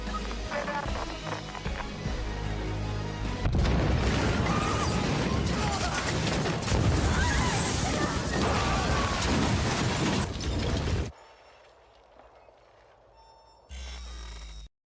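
A big explosion at a campus in a film scene rips out as a loud, dense roar of blast and crashing debris lasting several seconds, then cuts abruptly to quieter sounds and a final heavy burst.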